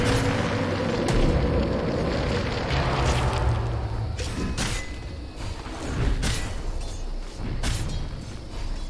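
Attack on a tower in Dota 2, Dire's middle tower during a Liquid versus Virtus.pro match: loud, dense booms and impact thuds strike repeatedly over a continuous rumbling battle din, with no voices.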